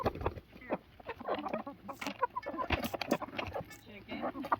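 Backyard chickens cluck and peck while eating black soldier fly larvae treats, with close, irregular clucks and soft calls mixed with a person talking nearby.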